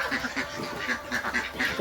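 Domestic egg-laying ducks quack in a rapid, overlapping chatter of nasal calls, several birds close by calling repeatedly without pause.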